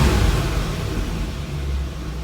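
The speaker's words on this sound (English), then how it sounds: "Now notice, the car is running fine right now." A 1989 C4 Corvette's engine idles steadily with a deep, even low rumble, close and continuous, with no voices over it.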